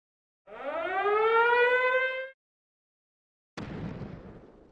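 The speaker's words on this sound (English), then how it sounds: "Is that sound a mortar?" Mortar fire in the Valkyria Chronicles game, set in a forest: a rising, whistling shriek lasts about two seconds, then after a short silence a loud explosive blast rumbles and fades.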